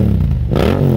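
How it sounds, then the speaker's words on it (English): A 2022 Yamaha MT-07 with a baffle-less carbon full racing exhaust gives a brief, loud rev, a deep throaty roar rising in pitch over about a second. "the Kropovich Carbon full racing exhaust. I took the baffle out. Thing sounds absolutely epic"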